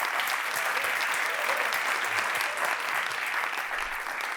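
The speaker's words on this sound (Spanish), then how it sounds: "Un aplauso, joder." Loud, sustained applause from an audience, dense clapping that continues steadily throughout and eases slightly at the end.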